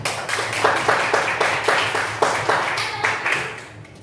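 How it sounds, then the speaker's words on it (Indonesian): A class of students claps together in a steady, rhythmic pattern, a group applause with a regular beat that continues evenly and then eases off near the end. "Tepuk tangan."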